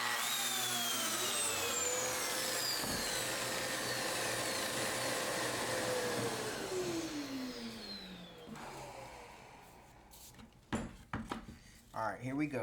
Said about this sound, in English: and we're gonna cut a mortise.